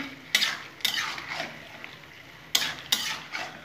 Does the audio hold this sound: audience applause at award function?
no